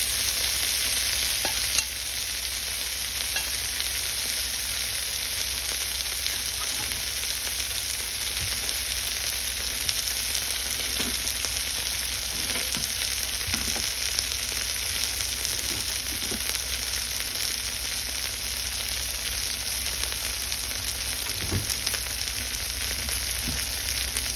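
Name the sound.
tofu steak sizzling while frying in a pan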